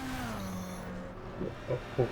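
A Mazda RX-7 race car in a racing video game at the Nürburgring, its engine holding a steady droning tone that slides lower and fades, followed by a few short thumps near the end.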